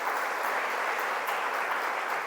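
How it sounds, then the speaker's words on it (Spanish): A church congregation claps together, a dense and even wash of applause that holds steady and fairly loud, with no speech over it. "Denle un aplauso a esta palabra de Dios."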